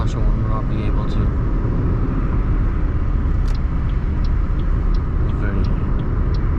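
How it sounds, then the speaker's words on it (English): A 2020 Toyota Aygo 1.0 cruising in highway traffic with a window open, giving a steady loud rush of road and wind noise with engine rumble and passing traffic, while a voice talks over it. "I have a window open, but we have some traffic going on"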